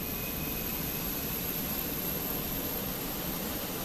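Jet engine noise in Microsoft Flight Simulator 2024, a constant broadband roar with a faint high whine that holds level throughout, with no voices.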